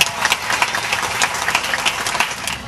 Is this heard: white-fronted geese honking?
no